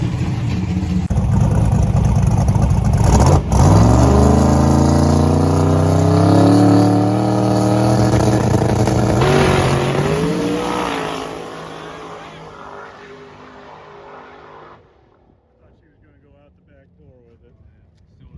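A drag race car's engine roars through a full pass, climbing through the gears in a loud rising howl, then fading away into near silence as the car gets farther off.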